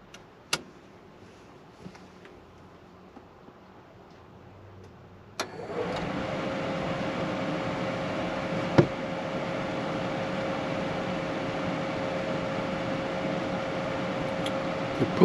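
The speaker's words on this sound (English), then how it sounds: "The propane's not on, we're just checking the fan amps." Camper propane furnace blower fan in a Four Wheel Camper Hawk shell switching on with a click after a quiet stretch, then a steady whooshing hum with a faint tone, running without the burner lit.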